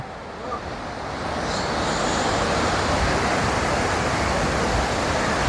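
Glacier meltwater runs down from the mountains in Yellowstone National Park as a loud, steady rushing roar of water that swells slightly and then holds constant throughout.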